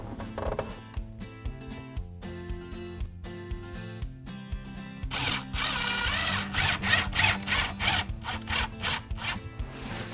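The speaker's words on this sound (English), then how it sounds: "I'm going to put a second screw through the base profile now into the nailing lip, through the base profile into the wall." A power drill drives a screw through a base profile into a Fibo wall panel, starting with short pulsing bursts and then a longer continuous whir, close and moderately loud, with no talk.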